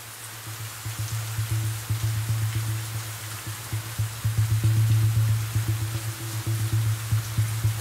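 Rain patters steadily on a surface in a Hindi movie scene, dense and continuous, with a low droning hum running underneath.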